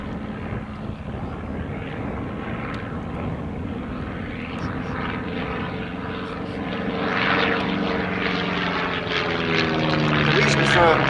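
A de Havilland DH82A Tiger Moth biplane's propeller engine drones steadily and grows louder toward the end at an air display, with someone talking over the noise throughout.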